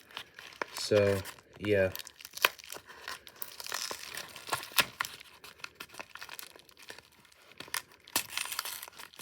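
Plastic packaging around a replacement BlackBerry phone battery is torn and ripped open by hand in two quick crinkly bursts, followed by scattered rustling, close up with a person talking over it.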